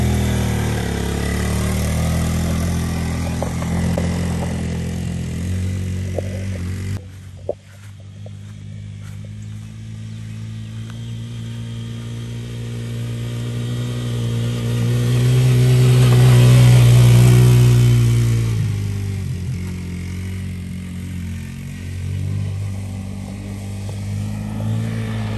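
A Kymco 90 engine runs close by and revs to clear it out, a steady drone that cuts briefly, then swells into a long rev and settles back.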